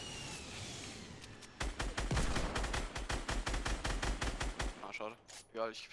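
Rapid gunfire in Fortnite, a dense run of sharp, loud shots in quick succession after a quieter start, then a few scattered bursts with faint game effects at the end.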